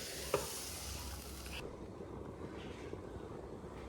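A fried spice mix goes into a pot of khichuri with a soft clack, then a hissing sizzle that cuts back after about a second and a half to a quieter simmer with faint stirring.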